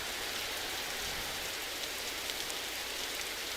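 Rain in a racing video game, a dense, even hiss of falling drops that holds steady and fairly quiet throughout, with no voices over it.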